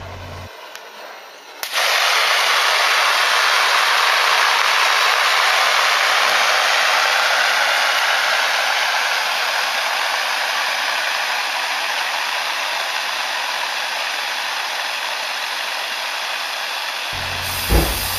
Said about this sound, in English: the powder extinguisher will be discharged into 2 polythene bags